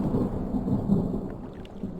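Distant thunder in the video game Draugen, a low, rolling rumble that stays steady and fairly loud through the brief clip with a faint patter over it, no voices.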